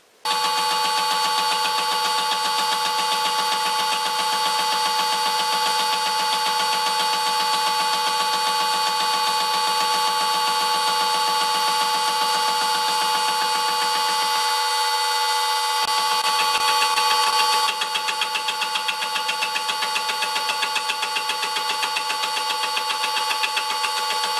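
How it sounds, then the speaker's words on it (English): A grinder cuts a slit in thin metal for chuck wedges, giving a steady, loud, tonal whine that runs throughout and shifts slightly in tone partway through. "So I think it will be easier to just grind a slit in here"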